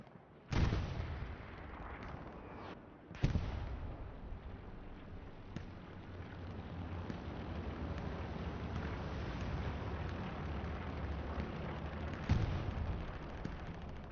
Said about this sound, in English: Some artillery shots on both sides, it's misses.